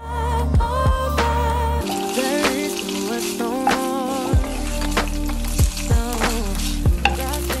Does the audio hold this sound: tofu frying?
yes